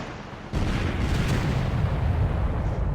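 Warship guns pound the battleship Bismarck in the naval game Victory at Sea Atlantic: a heavy boom kicks in, then a dense, sustained rumble of rolling gunfire and blasts, with no talk.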